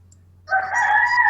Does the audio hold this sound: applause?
no